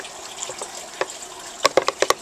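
Water scooped by hand from a home tank of plankton and zooplankton, a few quiet sloshes at first, then a quick run of five or six sharp splashy scoops close by near the end.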